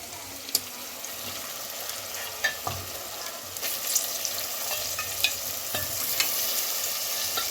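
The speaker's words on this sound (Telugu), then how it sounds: "ఇప్పుడైతే తలకాయ కూర వేసేస్తాం చూడండి వేసేస్తున్నా" Goat head meat sizzles and fries in a pan on a gas stove, with scattered pops and the scrape of stirring over a constant crackle.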